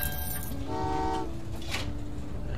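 Trains roll along rails in Train Valley 2 on an Antarctica map, with a steady rumble under short, tonal horn toots that rise and shift across the moment.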